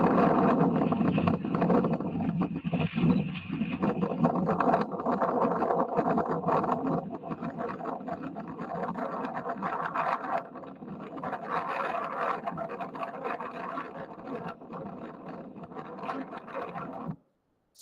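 A volcanic ash eruption rumbles and roars as a continuous, broad, wind-like noise with surging bursts, distant and fairly faint, lasting throughout before cutting off abruptly.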